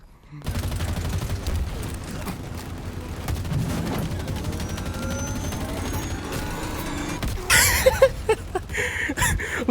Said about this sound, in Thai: ดูซิว่ามันยิงรถแรงหรือเปล่า